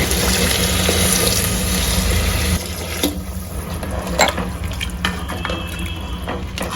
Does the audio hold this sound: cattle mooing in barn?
no